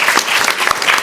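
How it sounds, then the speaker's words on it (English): Studio audience clapping on a comedy panel show, a loud, dense burst of applause filling the whole moment with no voices over it. "let's give everyone a clap, shall we?"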